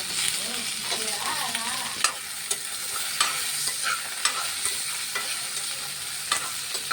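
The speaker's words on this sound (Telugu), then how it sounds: "వంకాయ ముక్కలు కూడా వేస్తాను వేసుకున్న తర్వాత చూడండి ఇలా ఫ్రై అవుతున్నాయి" Eggplant and tomato pieces frying in a pan, a loud close sizzle punctuated by repeated sharp scraping clicks from stirring at irregular intervals.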